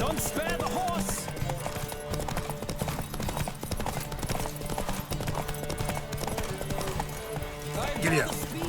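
Galloping hooves of a horse in The Witcher 3 race, rapid rhythmic clip-clop pounding continuously, mixed with voices calling out and game music.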